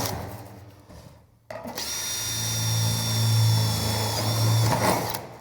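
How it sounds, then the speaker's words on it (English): Power drill boring into an insulated metal clad panel for a garden room, starting abruptly with a steady whining motor hum and high-pitched grinding that runs for several seconds, then eases off. "So what I'm going to do now is I'm going to drill it to one side."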